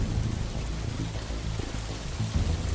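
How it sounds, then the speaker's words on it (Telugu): Heavy rain pours steadily in an animated story scene, a dense, unbroken wash of noise with no voices over it. "చాలా గట్టిగా వర్షం పడుతున్నందువల్ల నీళ్లు కూడా ఎక్కువయ్యాయి"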